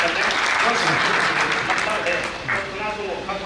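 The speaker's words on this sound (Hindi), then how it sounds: "एक बार जोरदार ताली से आदेश कर दें" An audience at a comedy poetry recital claps loudly for a poet, a thick, even burst of applause with some voices underneath, easing off slightly near the end.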